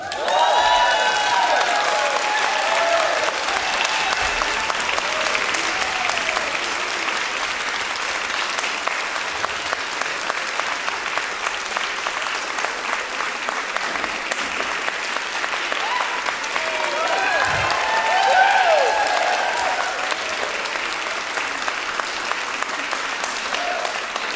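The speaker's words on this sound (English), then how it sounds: "wait till the applause has died down" A church audience at a Sunday music service claps for over twenty seconds, dense sustained applause holding steady and swelling slightly near the end, with a few voices and cheers rising through it.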